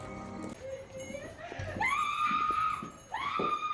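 A woman screams from a television in a motel room in a thriller film, shrill drawn-out cries rising twice over muffled background noise.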